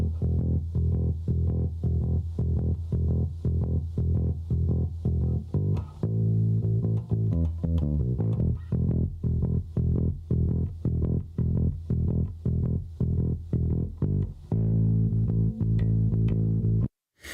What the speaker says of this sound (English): there is a small condenser mic on the tweeter of his bass guitar cabinet.